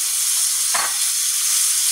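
Tomato tipped into a pan of stewed chicken gives a brief loud burst of sizzling over a steady, close frying hiss, with no talk.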